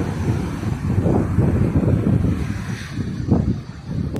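Steady low roar of gusting wind buffeting the microphone, with rumbling surges that swell and fade throughout.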